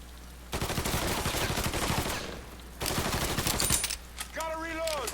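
Rapid gunfire fills a Mafia III shootout in loud sustained bursts, with a short lull in the middle before the shooting resumes. A voice briefly shouts near the end.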